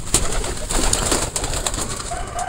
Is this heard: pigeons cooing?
yes